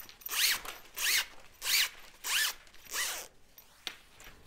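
Five quick zipping strokes run in steady rhythm as a zipper slide is pushed along a length of zipper tape, close and crisp, followed by a couple of small clicks, no voices.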